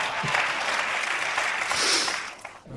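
An audience bursts into applause during a talk, a thick, steady clatter of many hands that swells briefly before tapering off at the end.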